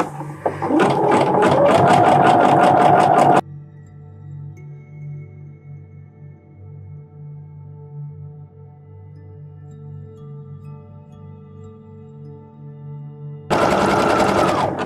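A sewing machine stitches fabric in two loud rapid buzzing runs, one at the start and a shorter one at the end, separated by a long near-silent pause with faint background hum.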